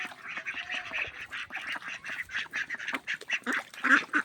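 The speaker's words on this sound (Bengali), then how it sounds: "হাঁসগুলা দেখো," Ducks quack in repeated bursts across a flooded village, the nasal calls coming steadily and fairly close, with several birds overlapping and no voices in between.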